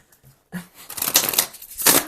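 Tarot cards are shuffled close by in quick riffling bursts, a soft flutter and snap repeating twice.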